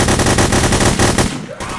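Rapid automatic gunfire in Hidden: Source, a close, loud string of evenly spaced shots lasting over a second before cutting off into quieter game sound.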